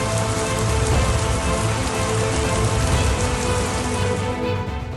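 Steady, loud rain pours down in Patan, Gujarat, a dense continuous patter and hiss of water hitting surfaces with no breaks and no voices.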